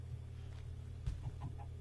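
Video game chicken clucking, a few short faint clucks at a low level over a steady background hum, alone with no voices.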